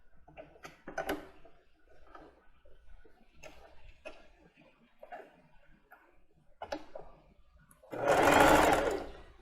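Domestic sewing machine stitching elastic onto plus-size underwear, short whirring bursts and ticks scattered through, ending in one louder sustained run of stitching near the end.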